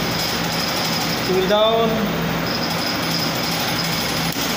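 Air compressor with its pressure switch set to cut in around 6 bar and out around 9 bar, running as a loud, steady mechanical drone beneath a voice.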